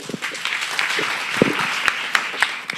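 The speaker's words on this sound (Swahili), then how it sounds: "Makofi" Applause from an audience during a talk by Kenyan MP Ndindi Nyoro, a steady patter of many clapping hands with a few sharper individual claps standing out toward the end.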